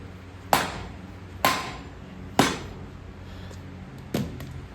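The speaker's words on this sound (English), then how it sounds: "Is it normal to hammer on that for 14 minutes to get that in there?" Heavy metal hammer blows driving a Lunchbox Locker into a Super Duty Dana 60 axle: four sharp ringing strikes spaced about a second apart, close and loud, with no talking.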